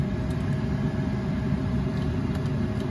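A Toyota Aygo's small car engine runs at a steady idle, a dense low rumble heard up close and continuous with no speech over it.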